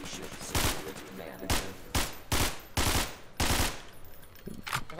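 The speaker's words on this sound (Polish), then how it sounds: "Strzał ostrzegawczy." Several sharp, loud warning shots in Garry's Mod (SCP: Containment Breach) fire one after another at uneven intervals, each cracking out and fading quickly, with quieter shots trailing at the end.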